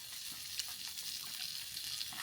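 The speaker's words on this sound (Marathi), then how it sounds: "अशा प्रकारे तर मासे फ्राय ऑलमोस्ट झालेले आहेत" Fish frying on a flat iron tava for a Malvani fish fry, giving a steady, soft sizzle with faint crackles and no voices.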